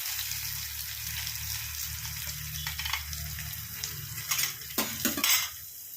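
Curry leaves hit hot oil in a pan while making lemon theeyal, giving a steady broadband crackling sizzle with a low hum beneath and a few louder spattering bursts near the end, no voices.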